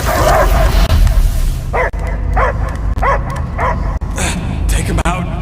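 A dog barks in the video game Marvel's Guardians of the Galaxy: a run of sharp, evenly spaced barks, about one per second, loud over a dense game soundtrack and background voices.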